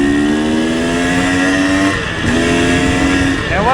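A freshly rebuilt two-stroke motorcycle engine rides along a street, its buzzing, raspy note climbing in pitch through the gears, briefly dipping during a shift, then revving up again, loud and close throughout.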